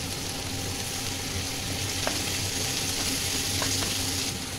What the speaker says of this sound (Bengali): পেঁয়াজটা ভাজা ভাজা হয়ে গেলে একটু টমেটো দিয়ে দিচ্ছি।